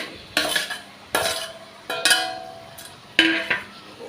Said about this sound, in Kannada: ಇವಾಗ ಚೆನ್ನಾಗಿ ಮಿಕ್ಸ್ ಮಾಡಿ ಈ ಬಾಳೆಕಾಯಿ